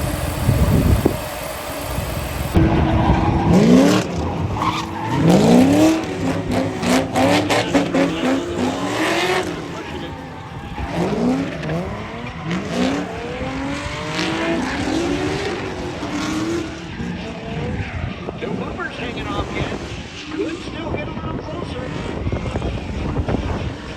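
A Nissan 350Z drifts on fresh asphalt with an exhaust leak, its engine revving hard and tires squealing in long skids, loud and continuous throughout.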